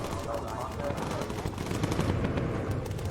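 Bomber machine guns fire in the Bomber Crew video game, a dense, continuous rattle of rapid shots with rumbling blasts beneath, steady and loud throughout.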